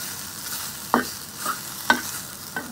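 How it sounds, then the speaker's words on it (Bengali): An egg fries in a pan for noodles, a soft steady sizzle broken by three or four sharp scraping stirs of a spatula. "তো ডিমটা আমি ভেজে নিচ্ছি"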